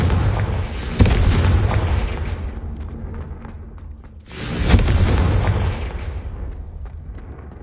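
Confringo fire spell in Hogwarts Legacy going off as two heavy booming explosions, one near the start and another midway, each with a long rumbling decay, loud and close, with no voices.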